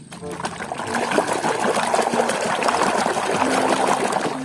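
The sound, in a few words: water trickling while washing toy animals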